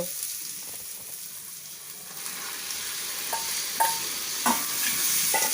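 Marinated chicken for chicken korma sizzles and fries steadily in a pan, with a few distinct scraping stirs of the spoon rising above the continuous hiss toward the end.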